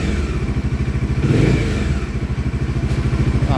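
A Bajaj Dominar 400cc motorcycle with its stock exhaust idles close by with a loud, rapid, even thumping pulse that swells briefly in a short rev before settling back.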